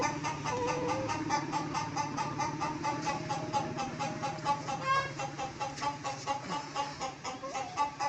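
Village hens cluck in a steady, repeated chatter of short calls, fairly quiet and continuous, with a sharper squawk partway through.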